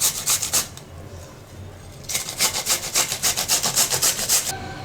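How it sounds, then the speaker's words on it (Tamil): Cucumber with its skin on being grated by hand in a home kitchen, a close, rhythmic run of rasping strokes in two bursts separated by a short pause, with no talk. "இப்போ நம்ம வெள்ளரிக்காவை நல்லா துருவி எடுத்துக்க போகிறோம்."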